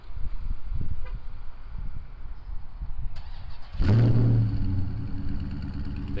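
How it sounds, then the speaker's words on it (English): A 2020 Dodge Charger R/T Scat Pack Widebody starts by remote start: quiet ambience, then the engine cranks and catches with a loud, deep rumbling rev that settles into a strong idle. No one speaks. "This vehicle does have a remote start."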